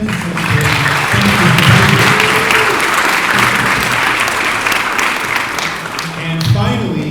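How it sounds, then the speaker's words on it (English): A school audience at a parents' weekend performing arts showcase applauds student actors, steady loud clapping throughout with cheering voices mixed in. "how about a nice round of applause for our actors and actresses"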